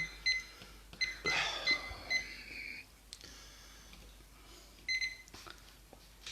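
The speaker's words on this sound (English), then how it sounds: "I'm going to put a timer on. Oh, look, timer on." Kitchen timer in a home baking setting set for a shortbread bake, giving a few brief, quiet high electronic beeps near the start and again later, with soft handling noise and breathing between them.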